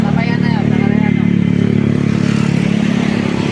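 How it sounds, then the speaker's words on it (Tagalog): A Honda Supra GTR 150FI motorcycle being ridden, with a loud, steady engine drone and wind rush throughout and a voice talking briefly at the start. "Ito yung motor natin mga brab."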